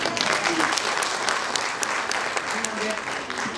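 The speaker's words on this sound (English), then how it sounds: "can we give the high table one more round of applause?" An audience applauds at the African Science, Technology and Innovation Forum in Zimbabwe, a dense, steady wash of clapping from a large crowd that continues throughout, with a voice faintly underneath.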